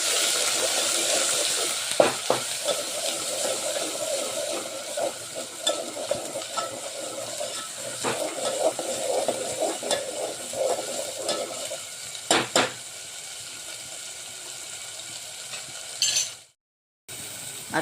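Ground paste of roasted onion, tomato, coconut, coriander and sambar spices frying in a pan, a steady sizzle with scraping stirs and clatter, a few sharper knocks, then the sound cuts out briefly near the end.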